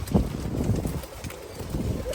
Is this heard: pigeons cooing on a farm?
yes